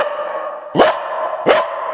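Dogs at an animal shelter give two sharp, loud barks about three-quarters of a second apart over a steady background hum.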